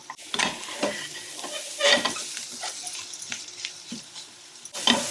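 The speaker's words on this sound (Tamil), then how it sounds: "இதை போட்டு நல்லா ஒரு வதக்கு வதக்கலாம்." Onions are sautéed in a pan with salt and pepper powder for a fish puttu dish. Close, busy sizzling runs under frequent scraping and clinking stirs of the utensil, with no talk.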